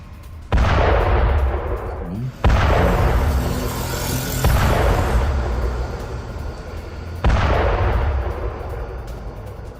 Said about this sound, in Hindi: 9 मंजिला इमारत में जोरदार धमाका हुआ